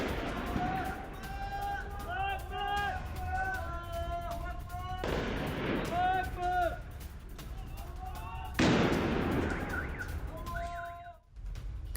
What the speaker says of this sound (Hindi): दमिश्क के बिल्कुल पास का ये डोमा इलाका है, जहां पर ये भारी फायरिंग हुई है